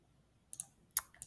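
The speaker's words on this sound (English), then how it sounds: "So I'll use the keyboard this time." A few sharp, quiet computer keyboard key clicks spaced irregularly over a near-silent background, as someone types out a math expression.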